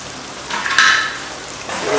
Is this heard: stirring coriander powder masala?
yes